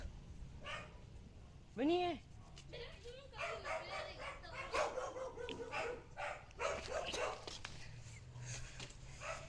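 A dog barks a few times in the background, sharp yips breaking through ongoing talk from a nearby speaker.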